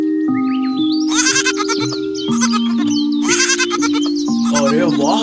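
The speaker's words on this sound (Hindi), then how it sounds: "शिकारी बकरी को घर से बाहर लेकर आता है।" A goat being led out of a house bleats repeatedly in loud, wavering cries over a steady musical backing, with several bleats in close succession.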